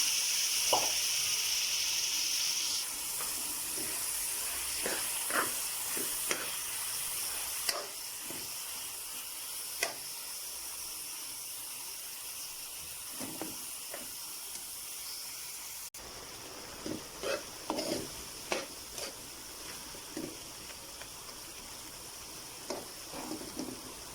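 Minced meat (keema) sizzles in a hot pan with a steady, faint hiss broken by small crackles and pops, and no talking.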